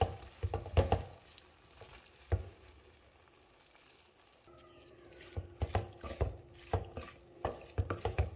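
Beans and grated coconut are stirred in a pan, giving a soft frying hiss with irregular spatula scrapes and taps that come in bursts, quieter in the middle and busier toward the end.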